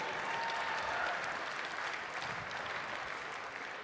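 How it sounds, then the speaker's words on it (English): Arena crowd applause after an opening welterweight boxing bout, a broad steady roar of clapping at even loudness across the clip, with scattered cheers and no announcer talking over it. "a big round of applause to both of us for a fantastic opening contest"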